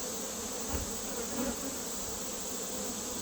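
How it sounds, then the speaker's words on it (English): Honey bees buzz in a dense, continuous drone close by as they are shaken off a hive frame, with a couple of brief thumps of the frame. "I'm going to shake all the bees off of it"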